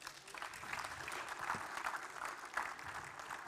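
An audience claps at an innovation awards ceremony, a dense, even round of applause heard from within the hall, with a few sharper individual claps standing out along the way.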